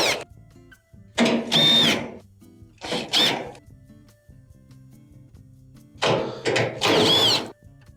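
A power driver removes screws from a Maytag dryer's blower housing in several short whirring bursts separated by quiet gaps, with clicks and clatter between.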